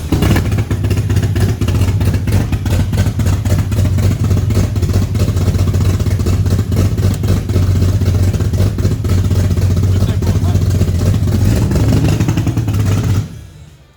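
A Barra-swapped Nissan Patrol engine runs with no exhaust fitted. It gives a loud, raw, clattering drone with a steady low throb for about thirteen seconds, then cuts out abruptly.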